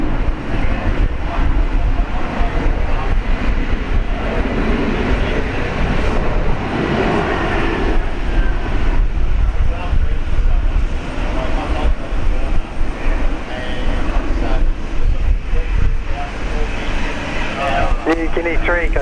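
A Qantas airliner sits on the runway at Brisbane International Airport, with loud, continuous broadband jet engine roar holding steady throughout, close and dominant, while air traffic radio chatter is heard faintly beneath it.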